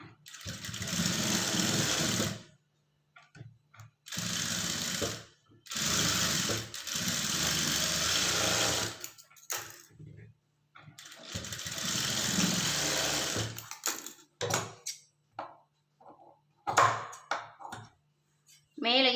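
Sewing machine running a straight stitch along folded blouse cloth, long loud whirring runs starting and stopping several times with short pauses, a voice speaking briefly between runs.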